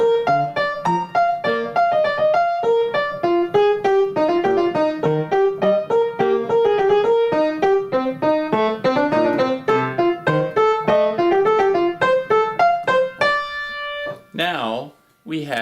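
Bach's Invention 14 played on piano with both hands together, a busy two-part contrapuntal line of quick, clear notes at a steady pace, ending in a brief held chord and a short trailing sound.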